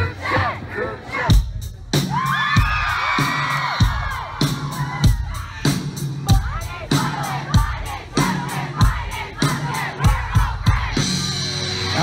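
A large crowd at a concert yells, cheers and chants in loud, rhythmic bursts, with a voice speaking over it at times.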